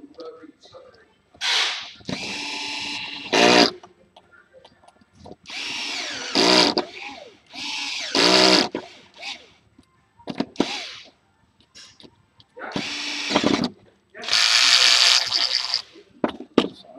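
Power screwdriver driving screws to fasten cardboard back onto an RC car, heard as several loud whirring bursts of a second or two each, separated by quieter pauses with a voice speaking in between.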